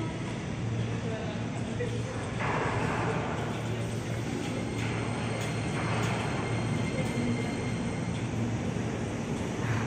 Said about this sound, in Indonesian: Ini KRL Jeris 205 uji coba.